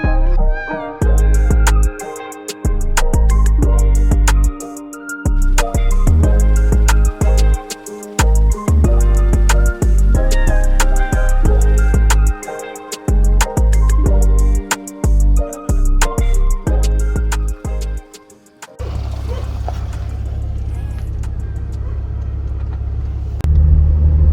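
A BMW 3 Series running on a junkyard engine drives off with a loud, close, rumbling engine note that pulses unevenly with rapid firing. After about 18 seconds it settles into a steadier, lower drone, with no talking.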